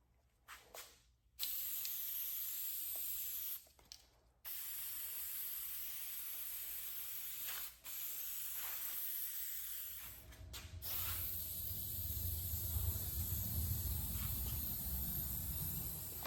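Coats of shellac sprayed onto an old pie safe during a furniture makeover: repeated steady hissing bursts from a sprayer, separated by brief pauses, close and fairly quiet.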